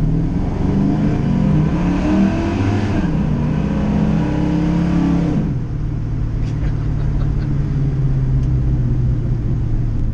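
A 500-horsepower 1973 Chevy C10 box truck accelerates hard at quarter throttle, its engine note climbing loudly through the revs for several seconds before dropping back to a steady rumble as it cruises on.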